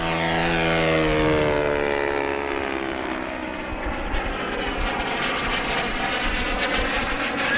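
An FMS 1700mm Corsair V3 RC plane comes in to land with no flaps, its propeller whine loud as it passes by, then easing down into a lower, steadier drone.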